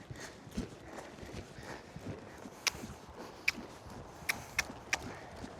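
A ridden horse's hooves clip-clop at a steady walking rhythm in an outdoor riding pen, with a few sharper, louder hoof strikes in the second half and no talk over them.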